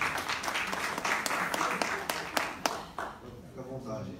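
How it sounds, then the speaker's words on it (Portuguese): Audience at a live design event applauding a guest, with scattered sharp individual claps over a mix of crowd noise and talking voices, the clapping thinning out toward the end. "Ele vai ter palmas para ele"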